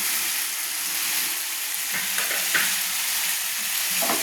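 Fried potato pieces and pointed gourd stirred with spices in a pan, a dense continuous sizzle with a few soft scraping strokes, loud and close with no talk.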